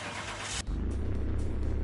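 Starter cranking on a car in Car Mechanic Simulator 2021: a broad burst of noise gives way to a steady low churning engine drone that holds close and loud for about two seconds.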